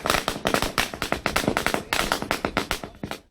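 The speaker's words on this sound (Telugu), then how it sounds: "బాణసంచా పేల్చి సంబురాలు జరుపుకున్నారు." Firecrackers bursting at a street celebration in Ilapur, Sangareddy, a dense run of sharp, loud cracks and pops going off in rapid irregular succession with no voices.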